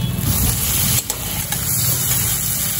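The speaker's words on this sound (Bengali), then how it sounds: "সমস্ত মশলা আমি এই তেলের মধ্যে আলুর সাথে ভালো করে ভেজে নেব।" Steady, loud sizzling of potatoes and spices frying in hot oil, a continuous crackling hiss with a brief clatter of stirring partway through.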